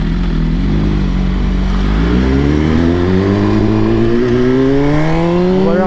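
A BMW S1000RR motorcycle engine accelerates loudly up close, its pitch climbing steadily through the revs with a strong continuous roar.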